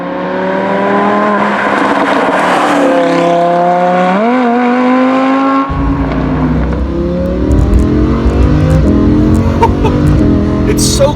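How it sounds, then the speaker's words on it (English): Lamborghini Huracan accelerating hard through its gears, a loud close engine note rising in pitch, then a quick uninterrupted shift into a deeper, rougher tone that climbs again, all under continuous cabin roar. "It just goes, and then when you're ready for the next gear, there's more go."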